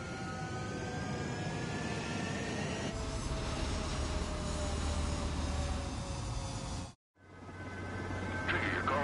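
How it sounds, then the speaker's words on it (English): A fighter jet taking off in the video game Ace Combat 7: a loud, sustained engine roar that swells steadily, drops out briefly and then resumes as the jet pulls away. "Control, do me a favor and get that bird in the air ASAP"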